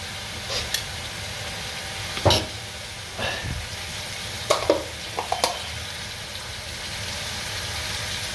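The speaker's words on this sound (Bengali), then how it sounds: "নাড়াচাড়া করে ভালো করে মিশাতে হবে।" Kachki fish being stirred in a pan with salt, coriander powder and ginger-garlic paste, with a low sizzle and a few scattered spoon scrapes and clinks over medium heat.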